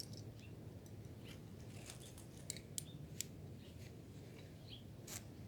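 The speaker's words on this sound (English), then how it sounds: "I'm simply going to take a Biner, get around your rope and into that overhand and a bite." A metal carabiner is clipped around a climbing rope into an overhand knot on a bite, making a few faint close clicks and small metallic ticks over a quiet hiss.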